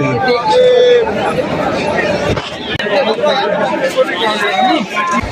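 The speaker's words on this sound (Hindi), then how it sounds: "तो गाइस मैं आपको यहाँ की भीड़ दिखाता हूँ।" Pilgrims throng the queue at Kedarnath temple, a loud continuous babble of chattering voices close by, with nearer individual talk standing out over the crowd.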